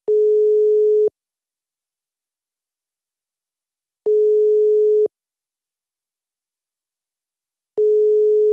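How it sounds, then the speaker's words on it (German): A telephone ringback tone plays while waiting for someone to answer, with three steady one-second beeps separated by long silent gaps, clear and alone. "Das dauert aber ganz schön lange, ja, bis die ans Telefon gehen."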